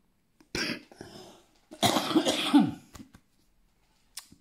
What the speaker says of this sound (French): ça monte tellement que j'en ai une toux